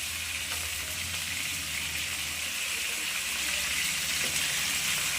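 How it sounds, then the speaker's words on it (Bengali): Chicken pieces fry in hot oil in a pan while biryani is being made, giving a steady, close hiss and crackle with no voices. "এবারে আমি চিকেনটাকে আবার উল্টে দেবো"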